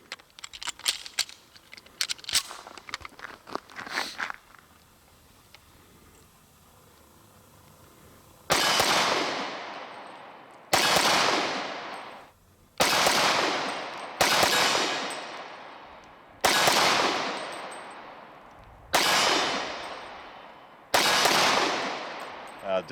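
A Springfield Armory XD-45 pistol fitted with a DPM Systems recoil reduction system fires double taps: a few light clicks first, then six loud, sharp, paired reports at a steady pace, each ringing out and fading before the next.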